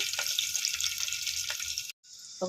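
Crushed garlic hitting hot oil with cumin for a gongura tomato chutney, a steady close sizzle and crackle that cuts off briefly before frying resumes.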